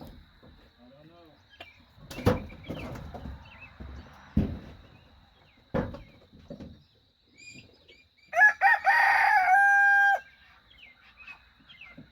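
Rooster crowing loudly and close among a small flock of chickens in a farmyard pen, with softer clucks and bird chirps scattered around, while someone talks nearby.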